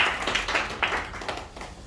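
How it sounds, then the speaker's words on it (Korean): Scattered clapping from a small classroom audience after a student presentation on ISO 4287 versus ISO 21920 surface roughness standards, a few moderately loud bursts of claps running through the whole short stretch. "박수 한번 쳐주고"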